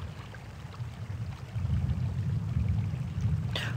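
Water flows steadily over a stone memorial, a low, continuous rushing and pouring that swells slightly partway through, heard alone without talk.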